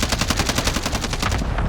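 Rapid automatic gunfire in Call of Duty Warzone hammers out in one loud, continuous burst of evenly spaced shots, close and with no voices over it.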